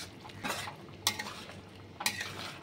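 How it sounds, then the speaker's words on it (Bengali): A spoon stirs fresh cream and fried paneer into a mixed vegetable curry in a pan, making soft, close scraping swishes with two sharper clinks against the pan. "এবার একটু ফ্রেশ ক্রিম দিয়ে দিচ্ছি, নাড়াচাড়া করে দিচ্ছি।"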